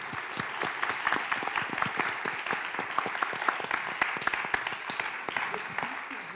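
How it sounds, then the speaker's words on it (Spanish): Applause from an audience at a comics talk, many hands clapping in a lively, slightly uneven patter with individual claps standing out, sustained throughout at fairly close range. "les pido por favor un aplauso muy grande"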